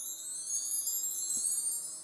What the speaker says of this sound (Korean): 윈드 차임 혹은 윈드 트리 혹은 뭐 마크 트리 이런 이름으로 많이 사용하죠.